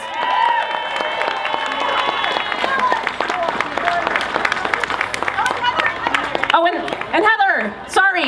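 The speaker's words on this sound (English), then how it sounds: "Please give them a round of applause." A crowd at the Franklin County Pride Parade 2019 stage event claps and cheers, a dense, continuous wash of applause that stays loud throughout, with voices breaking through near the end.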